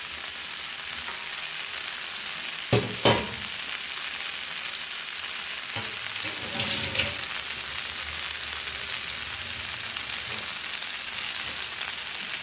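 Curry sautéing and being stirred in a pan, a steady sizzle of frying with a few sharp scrapes and clanks of the spoon against the metal.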